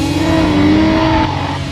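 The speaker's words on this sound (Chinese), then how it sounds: "感觉到前轮到极限的时候，顶着油门， 后轮就会开载" A Lotus sports car held at full throttle as its rear wheels slide out, with a loud sustained engine drone and a rising tonal whine, close and continuous, with no talk.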